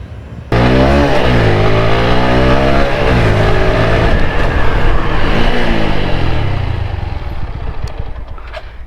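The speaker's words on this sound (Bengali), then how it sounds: "এখন হচ্ছে ইঞ্জিন ব্রেক" An Apache RTR 160 4V motorcycle engine roars loudly close by during engine braking, its pitch rising and falling as the revs change, then dropping off as it slows.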